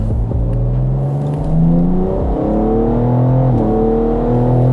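A tuned BMW M4 G82 engine (Stage 2+, 800 hp) drones loudly and climbs in pitch as it accelerates, with a gear change midway and continued rising revs.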